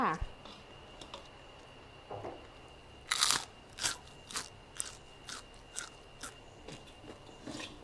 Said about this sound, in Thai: ฟังเสียงกรอบก่อนนะคะ กากหมูมีความกรอบแบบไม่สลดเลยค่ะ